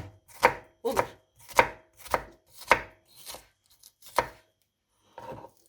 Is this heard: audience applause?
no